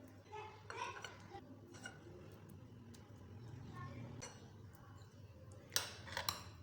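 Jelly stirred into a creamy Lab e Shireen dessert mixture in a bowl, with soft scraping and occasional light spoon clinks, the loudest near the end, under a person talking.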